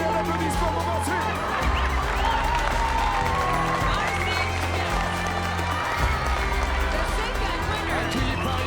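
Crowd applause and cheering greet a trail runner crossing the finish line in second place at an ultra-trail race, with steady clapping running throughout and an announcer talking over it.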